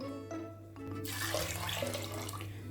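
Water pours steadily into a metal pressure cooker over lentils for sambar, a rushing splash that begins after a second of quiet and continues to the end.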